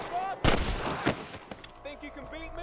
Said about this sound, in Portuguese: Caraca, eu tô atirando na cabeça do cara